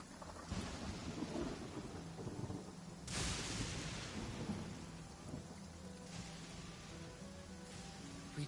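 Rain pours steadily with a heavy thunder crack rolling in midway and lighter rumbles later, set in the video game Genshin Impact, loud and continuous with no talking.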